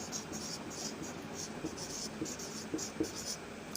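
A pen scratches across paper while a job application letter is written, soft short strokes in uneven bursts, quiet and close against a faint hiss.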